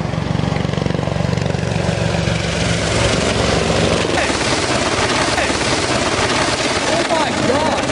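Loud, close Apache helicopter rotor and engine roar during a crash in Afghanistan, a continuous chopping drone that turns rougher and more chaotic midway, with voices shouting over it.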